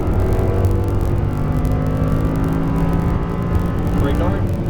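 An Audi R8 engine droning loudly and steadily through a right-hand upshift on a track, a continuous close roar with a subtle pitch shift near the end.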